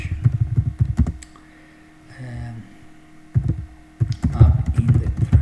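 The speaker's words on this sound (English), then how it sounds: "Sorry for my typing." Typing on a computer keyboard, close clicky keystroke bursts that come in two clusters separated by a quieter pause, with faint background hum.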